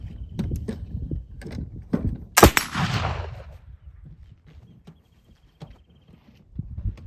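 A black powder rifle or muzzleloader shot loaded with raw cotton black powder, 77-13-10 mix milled 48 hours, fires once in a loud sharp crack with a long fading tail, amid low background rustle and handling noise.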